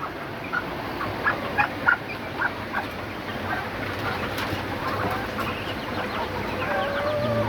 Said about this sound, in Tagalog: Sumasama na dito yung ibang manok na yan